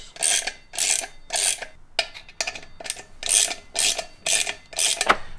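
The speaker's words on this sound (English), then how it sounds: "Now to tighten down, you just want to go in a crisscross pattern." A ratchet works bolts on a 2009 Yamaha R1 motorcycle being rebuilt, snugged in a crisscross pattern: about nine quick ratcheting bursts in a steady rhythm, close and loud with no talking.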